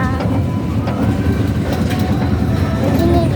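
A small train ride rolls through the Taman Rusa zoo in Banda Aceh, giving a loud, steady rumble with scattered rhythmic clacks and rattles throughout.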